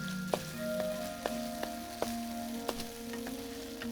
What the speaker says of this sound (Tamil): நீங்க நல்லா வதக்கி அந்த எண்ணெயில வந்து அதோட மசாலா கலவைகள் எல்லாம் கலந்துடணும்